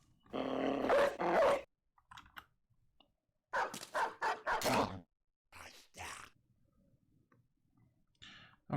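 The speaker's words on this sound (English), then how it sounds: "Now it might be time to start unleashing dogs" Dogs in the Battle Brothers video game bark and growl in several separate bursts, some loud and close, with short quiet gaps between them.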